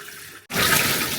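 Tap water pours into a cooking pot to make soup broth, a loud steady rush that starts abruptly after a brief silence and keeps going with no voices.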